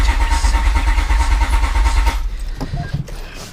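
A Honda J32A3 V6 cranks over on the starter during a compression test, a loud rhythmic churning for about two seconds before it stops, followed by faint clicks.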